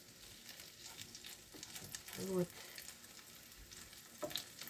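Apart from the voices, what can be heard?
syrniki (cottage cheese pancakes) frying in a pan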